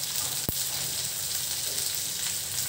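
Onions frying in a pan give a steady, close sizzle with one sharp click early on, with no voices over it.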